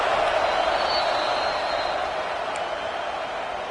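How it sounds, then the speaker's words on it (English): A football stadium crowd keeps up a broad, continuous roar that stays loud and even, easing slightly toward the end. "This crowd rising up"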